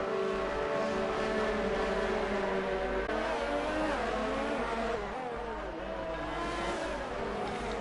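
A Formula 1 car's engine on an installation lap of the Canadian circuit in an F1 racing game, a steady high revving drone with shifting pitch, moderately loud and continuous.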